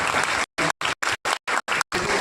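Audience at a national college festival opening clapping together, heard as a string of loud, dense bursts of applause broken by short abrupt gaps.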